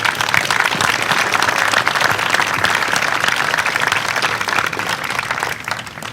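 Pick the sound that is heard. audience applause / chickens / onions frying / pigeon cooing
audience applause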